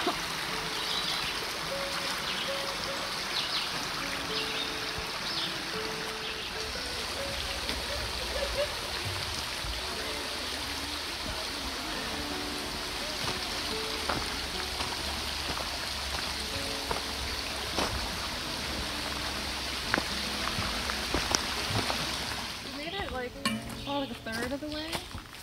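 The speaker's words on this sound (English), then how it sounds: "Beautiful sound of water flow." Water flowing steadily in a stream at New Germany State Park, Maryland, a continuous rushing babble close by, with a few faint clinks and rustles near the end.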